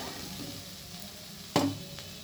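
Cauliflower and potato curry fries quietly in a pan with a soft, low sizzle, broken by one sharp scrape of a spoon stirring the vegetables, then a fainter clink.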